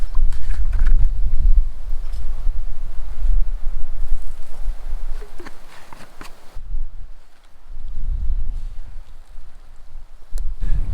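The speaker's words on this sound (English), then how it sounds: "The wind's picked up, as you can probably hear." Strong, gusty wind in the Glaskogen nature reserve of the Swedish wilderness, buffeting the microphone hard in loud, rising and falling bursts, with a brief lull before it picks up again.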